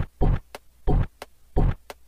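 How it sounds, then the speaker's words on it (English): Pitched-down kick drum built from a Call of Duty ray gun sample, three deep, booming hits about 0.65 seconds apart, each trailed by a short sharp click, loud and alone with no voices. "Let's pitch down the kick and it sounds like this."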